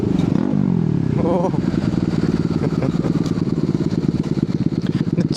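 Bajaj Pulsar NS200 motorcycle exhaust burbling close by, a loud, rapid throaty pulse that rises in a short rev near the start and then settles into a steady rumbling run, with a voice faintly underneath.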